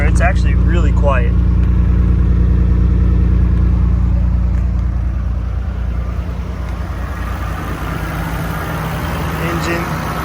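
A Nissan R32 Skyline GTR with a Nismo muffler idles on a cold start as a low, steady and fairly quiet hum, with a voice talking over it near the beginning.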